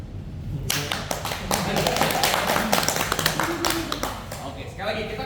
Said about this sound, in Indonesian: sekali lagi kita kasih tepuk tangan melingkar untuk kamu